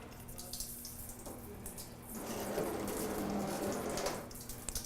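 Water flushes through the high-side bleed of a test gauge on a double check valve assembly, a soft hissing, splashing flow that surges stronger midway with faint drips, no talking.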